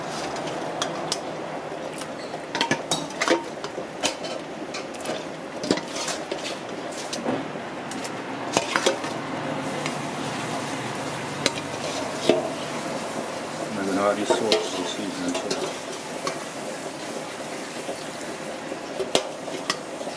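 Seasoned fish going into a pot of boiling broth and being stirred, giving soft splashes, bubbling and scattered clinks of utensil against pot, with people talking over the cooking throughout.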